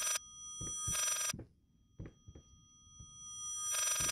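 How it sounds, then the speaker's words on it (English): In the horror video game Layers of Fear, an old telephone bell rings in loud, shrill bursts, one at the start, another about a second later and a third near the end, with faint footsteps and creaks in the quiet gaps. "That was the phone I was supposed to answer!"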